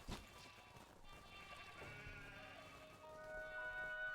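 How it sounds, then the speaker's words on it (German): Sheep bleating beside water in the Craftopia video game, drawn-out game bleats over steady ambient game sound and music, a sharp impact at the start. "Nein, Schafi, warum gehst du in das Wasser?"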